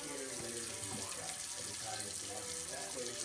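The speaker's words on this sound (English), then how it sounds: "I'm going to wash them thoroughly using water, vinegar, and lemon." Running tap water splashes steadily over chicken quarters in a sink being washed with vinegar and lemon, a continuous broadband rush with faint background voice-like tones.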